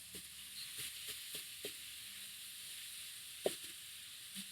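Diced meat sautéing in a pan, a steady soft sizzle with occasional scraping clicks of stirring, one sharper knock near the end, faint and close.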